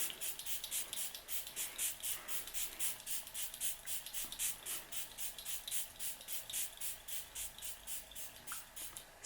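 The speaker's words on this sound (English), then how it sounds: "spray a very generous amount." Rapid, even pumps of a facial toner mist spray, two dozen or so soft hissing bursts in a steady rhythm, close and quiet.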